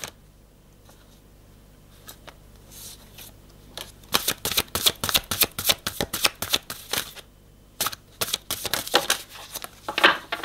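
Tarot cards are shuffled by hand during a card reading, starting as faint scattered flicks and building into a rapid, close, crisp riffling that runs in bursts for several seconds with brief pauses.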